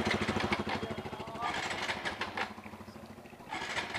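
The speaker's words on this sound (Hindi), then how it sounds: "स्टार्ट होके बंद हो रही है बार बार" A TVS Apache RTR 200 4V motorcycle with an empty fuel tank sputters as it starts and stalls, its uneven low engine chugging faint and surging in short bursts.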